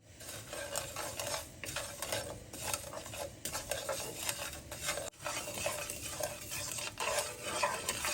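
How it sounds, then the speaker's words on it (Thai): Sesame seeds dry-roasted over low heat in a pan, stirred continuously: a steady dry rustling scrape with small clinks of utensil on metal, close and even for the whole stretch, with no voices. "ค่อยคั่วให้งามันหอม"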